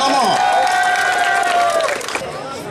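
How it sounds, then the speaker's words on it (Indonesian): Audience at a village Independence Day community event clapping and cheering, loud and dense, with voices mixed in before it tapers off near the end. "Tepuk tangan untuk Tambak Romo."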